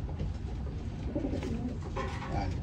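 Racing pigeons in a loft, soft low cooing over steady background rumble, moderately near.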